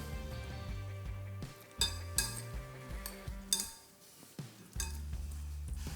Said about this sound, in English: So a little bit of pasta in there. Give that a stir.